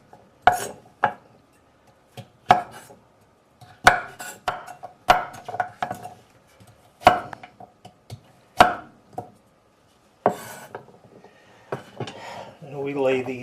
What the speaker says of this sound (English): Cut it into roughly 1-inch cubish sort of things.